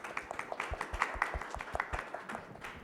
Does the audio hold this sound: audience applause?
yes